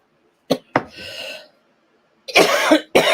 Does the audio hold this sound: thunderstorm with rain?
no